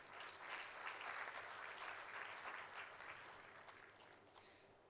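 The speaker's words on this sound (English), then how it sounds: "Everybody, a round of applause." Dense applause from a graduation ceremony audience, a steady wash of many hands clapping at once that swells early and then slowly fades, heard fairly distantly with no talking over it.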